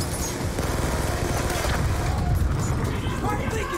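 A nitrogen tank exploding in Call of Duty Black Ops II, a loud, dense rumbling blast with crackling debris that rolls on for several seconds while voices talk over it.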